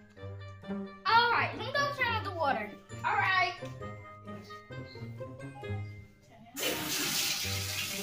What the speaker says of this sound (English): Alright, let me go turn on the water.